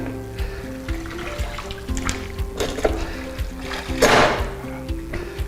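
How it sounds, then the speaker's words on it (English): A mop head plunged into a bucket of rinse water, a run of splashing and sloshing with a fuller surge of water near the end, heard close with no talk. "Collapse the head, bring it to our rinse water"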